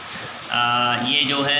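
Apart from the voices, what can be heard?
heavy rain falling outside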